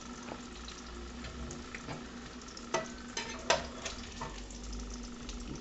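Meatballs for stroganoff fry quietly in a pan with a steady soft sizzle, while a spatula scrapes and taps a few times midway, faint and close with no voices.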